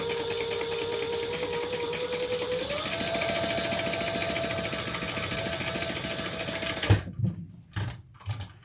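A sewing machine stitches fabric flat in a steady, rapid mechanical chatter, its motor rising slightly in pitch, before stopping abruptly and leaving a few faint knocks.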